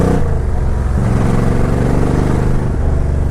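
A Suzuki Intruder motorcycle engine running close by: a loud, continuous low rumbling idle with a throbbing pulse and slight shifts in pitch, no talking.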